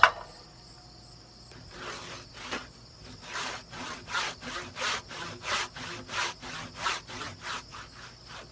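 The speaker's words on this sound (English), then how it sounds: "Now when I'm cutting with the handsaw, I'm really not putting much pressure on here." A handsaw is worked with light pressure across a timber top plate to cut a scarf joint, making rhythmic rasping strokes that speed into an even back-and-forth pattern. Quiet and close, with no speech.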